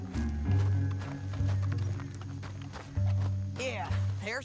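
Horse hooves in Red Dead Redemption II, a steady run of clip-clop beats mixed under dense game sound and a voice, with a tonal sweep near the end.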